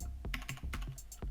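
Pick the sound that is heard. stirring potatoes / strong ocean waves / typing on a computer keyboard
typing on a computer keyboard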